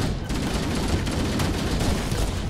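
Loud, continuous gunfire in a co-op shooter video game, dense overlapping shots and blasts forming a sustained barrage with no clear gaps.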